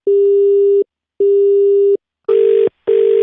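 A telephone busy tone after a call is cut off beeps four times, two long steady tones followed by two shorter, harsher ones, separated by brief silences.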